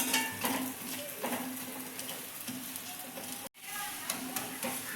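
Methi thepla, a fenugreek flatbread, frying in oil on a pan, a steady close sizzle with brief scraping and stirring touches and one sudden momentary dropout.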